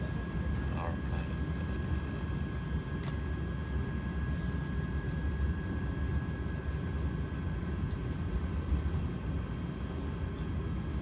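Airplane cabin noise on a flight to Frankfurt is a constant broadband roar with a low engine drone that stays even throughout, with no voices standing out.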